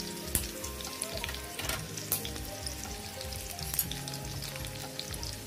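Curry leaves crackling in hot oil for tempering a sweet-and-sour panchamrut, a soft continuous sizzle with scattered faint pops, fairly quiet and close.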